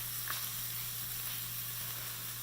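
Shallots, also called pearl onions, sizzling in hot oil in a pan: a steady, close crackling hiss that holds evenly throughout, with a faint brief tap near the start.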